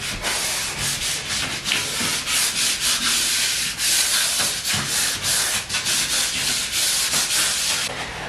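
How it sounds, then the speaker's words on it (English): Steady, continuous rasping of sandpaper rubbed over a wooden door, close and loud, with rhythmic back-and-forth strokes and no talking. "I've just finished sanding the door, so it's nice and smooth"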